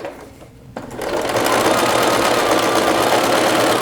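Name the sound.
sewing machine stitching with quarter-inch foot and dual feed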